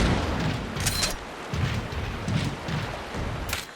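Turrets fire in the Transformers: Rise of the Dark Spark video game, heavy booming blasts and rumbling impacts repeating irregularly over a dense, noisy battle background.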